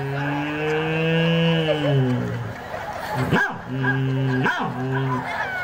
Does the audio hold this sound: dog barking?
yes